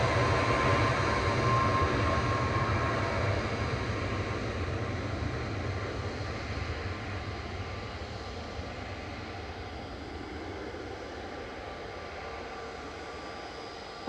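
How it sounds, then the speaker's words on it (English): A Ryanair Boeing 737 MAX 8200 takes off from runway 23L at Manchester Airport, a broad engine roar from a distance that slowly fades. "Ryanair departing next. On 23 left to Gran Canaria, flight 2583. It's a MAX 8200"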